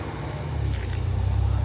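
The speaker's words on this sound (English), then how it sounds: "It's in gate, right beside a busy road." Steady low rumble of road traffic on a busy road right beside a campsite gate, with a car passing close by and building slightly in loudness over a brief moment.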